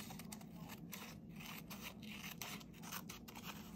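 Scissors trimming a watercolored book page up close, a quiet continuous run of snipping and paper-slicing strokes over a low background hum, with no voices.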